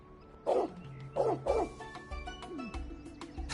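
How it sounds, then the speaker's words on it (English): A dog in the video game Trails Beyond the Horizon gives three loud, sharp barks in quick succession, then a softer whine against quiet background music. "Aw, nice pup. I didn't know you were a dog."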